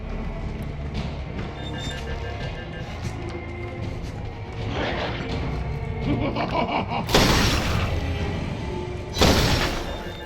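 Turret firing in Resident Evil 7, two loud bursts of rapid shots cutting through a busy, rumbling game background.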